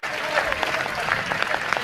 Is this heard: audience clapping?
yes